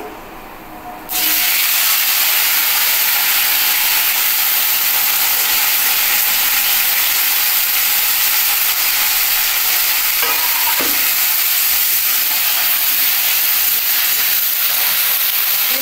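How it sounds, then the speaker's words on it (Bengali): Nigella seeds dropped into hot oil as a tempering for an okra mustard dish set off a loud, steady, close sizzle that starts abruptly after a brief quiet moment and hisses on without a break. "এর মধ্যেই আমি কালো জিরে ফোড়ন দিয়ে দিচ্ছি"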